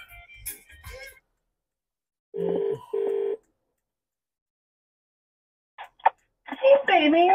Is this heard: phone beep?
yes